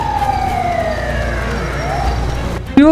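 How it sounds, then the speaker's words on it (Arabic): Police patrol car and ambulance sirens wailing together, their tones sweeping down in long glides and a new rising whoop cutting in near the end, loud and close with voices talking underneath. "جت الاسعاف والدوريات"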